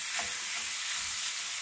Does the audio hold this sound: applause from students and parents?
no